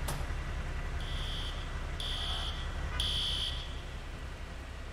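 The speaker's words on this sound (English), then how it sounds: "Got an alarm going off here too" In the EmergeNYC firefighting game, a building alarm beeps three times at one-second intervals. The sharp electronic tones sit over a low, steady rumble of a vehicle engine, with no one speaking.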